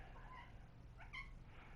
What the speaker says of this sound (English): open the door for that crying ass cat